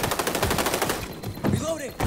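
Gunfire in a video game rattles out as a quick rhythmic burst of shots, loud and near, then breaks off amid other game effects before resuming briefly at the end.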